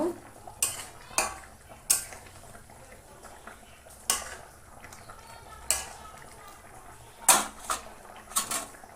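A spoon scraping and clinking in a pot as ground roasted cumin is stirred into a hilsa fish curry with taro, sharp metallic taps recurring irregularly over a soft simmering background.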